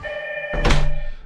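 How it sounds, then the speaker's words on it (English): A Hikvision intercom doorbell sounds a single loud ding-dong chime after a soft ringing tone, the second note ringing out and decaying. "You heard the ding-dong doorbell there."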